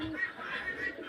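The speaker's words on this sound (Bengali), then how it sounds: "এইখানে আমার সব কবুতর" Pigeons coo softly in a loft on a small farm, housed in a five-tier pigeon house; a brief, low murmur of cooing runs steadily without a break.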